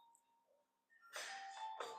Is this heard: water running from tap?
no